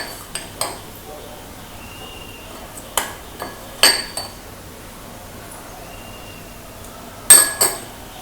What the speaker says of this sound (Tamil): இதில் வந்து நம்ம மிக்ஸ் பண்ணி வச்சுருக்க இந்த ஓரியோ பிஸ்கெட்டை வந்து நம்ம போட போகிறோம்.